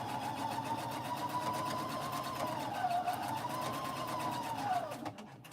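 Close and steady, a sewing machine hums continuously as it quilts a small pink baby quilt in a Silver Star pattern, its pitch wavering slightly before it stops abruptly at the end.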